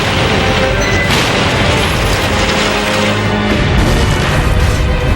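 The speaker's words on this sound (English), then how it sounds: "It's actually a staged explosion." A staged explosion of an airplane sends out a loud, sustained roar of blast and crashing debris that lasts the whole stretch without letting up.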